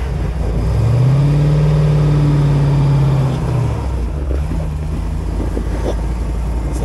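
A classic MG Roadster engine starts at a British Motor Museum centenary event, a low rumbling idle that swells and revs briefly near the start, then settles back to a steady mid-level hum with outdoor ambience.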